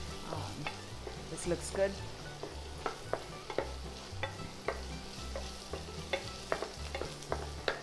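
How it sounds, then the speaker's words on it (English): Onions sautéing in a pan for vegetable rava upma, a quiet sizzle with frequent light spatula taps and scrapes, while a voice speaks briefly and low music hums underneath. "I'm just going to saute this for a bit until the onion softens"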